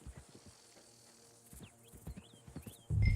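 Video game horse hooves clip-clop at a brisk walking pace, close and fairly quiet, with faint bird calls behind and a louder thump at the very end.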